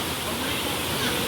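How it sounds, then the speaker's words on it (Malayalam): Water pours through a pair of holes at a scenic outdoor spot, a close, steady rushing roar like a small waterfall that stays even for just over a second. "ഓട്ടയെക്കൂടി വെള്ളം വരുന്നുട്ടോ"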